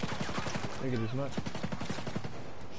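Rapid gunfire from Tom Clancy's Ghost Recon comes as short, clipped bursts of repeated shots, with a shouting voice briefly over them in the middle.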